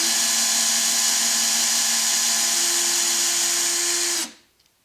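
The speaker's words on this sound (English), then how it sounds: "So start the drill up." A loud, steady whine of a power drill driving a Trim-It II case trimmer on a cartridge case, running continuously, then abruptly cutting off and leaving near silence with a couple of faint clicks.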